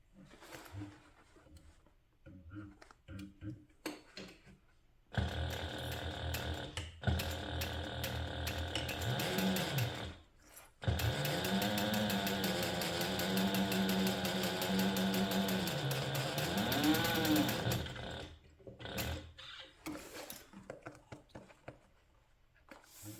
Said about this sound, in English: I'm going to sew this together using a 1/2 inch seam allowance and my stitch length of 4